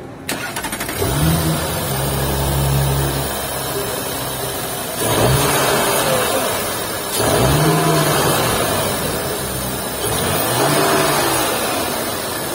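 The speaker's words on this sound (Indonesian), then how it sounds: "gimana sih suara mesin dengan performa sangat luar biasa untuk ukuran sebuah station wagon ini" A 2.9-litre TFSI twin-turbo V6 in an Audi RS4 Avant station wagon fires up with a loud bark and settles into a rumbling idle. It then rises through several sharp revs, each falling back to idle, with talk over it.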